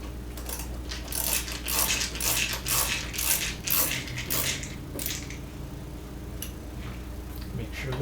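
A small screw is tightened on a Minuteman CPE1000 UPS during a battery change, giving a close run of quick clicking, ratcheting ticks for several seconds before tapering into sparse faint clicks.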